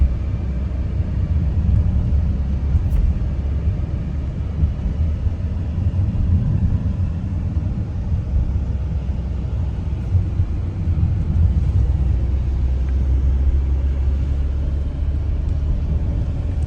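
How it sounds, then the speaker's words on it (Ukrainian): Continuous low rumble of a car moving along, steady engine and road noise heard from inside without any talk. "ви чуєте, все все добре, машина їде"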